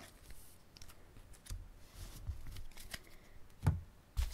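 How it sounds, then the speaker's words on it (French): Pokémon Energy Reverse card handled and slid into a protective plastic sleeve, giving soft papery rustles and slides close by, with a couple of sharper taps near the end. "Je vais également mettre la carte Energy Reverse sous pochette parce que je les adore"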